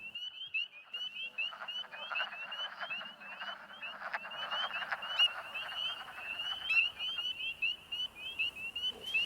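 Frogs croaking in chorus during the spring amphibian migration to breeding sites, a dense trilling chorus of many calls that continues steadily throughout, with no voices present.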